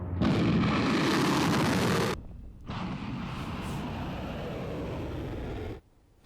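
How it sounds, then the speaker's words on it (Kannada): Explosions near Abu Dhabi airport come through as a loud, continuous broadband roar, dropping out briefly after about two seconds, then resuming at a steady level before cutting off abruptly near the end. "ಅಬುಧಾಬಿ ವಿಮಾನ ನಿಲ್ದಾಣದಲ್ಲಿ ಬಳಿ ಭೀಕರವಾಗಿ ಸ್ಫೋಟಗಳು ಉಂಟಾಗಿವೆ"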